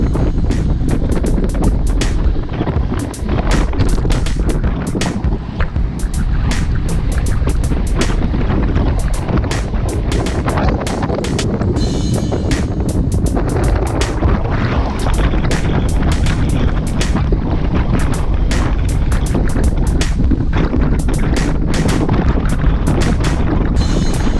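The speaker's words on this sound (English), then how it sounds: "You can hear that wind. We're going straight into the wind." Strong headwind buffets the microphone on a group cycling ride, a loud constant roar with irregular gusty thumps and crackles running the whole length.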